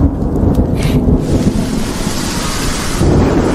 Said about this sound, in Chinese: 是不是又要下大雨？